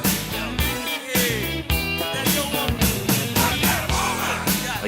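Full-band rock band recording of a 1980s song, steady loud drums, bass and guitars with no talking over it.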